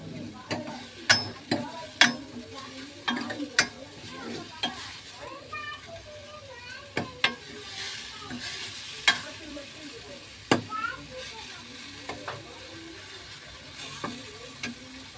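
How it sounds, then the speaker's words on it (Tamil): Mango and carrot sautéing in a pan for mango rice, a steady sizzle under repeated sharp scrapes and clacks of a spoon stirring, loud and close throughout, with no talking. "மாங்காவும் கேரட்டும் வதங்கிடுச்சு"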